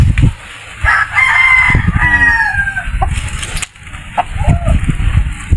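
A breeding gamecock, a fighting rooster, crows loudly and close, one long strained cock-a-doodle-doo among scattered clucks and farmyard rustling.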